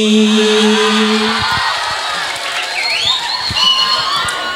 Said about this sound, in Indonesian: Gitu doang tepuk tangan ya